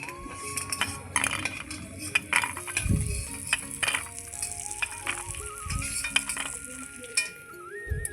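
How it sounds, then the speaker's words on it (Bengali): Lentil dumplings (bori) frying in oil in a pan, with a low sizzle beneath close clinks and scrapes of a metal spatula, some muffled knocks, and light background music. "ওটাতে বড়ি বড়িগুলো একটু লাল লাল করে ভাজবো"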